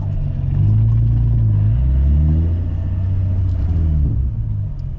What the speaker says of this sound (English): So then releasing the clutch, adding more gas.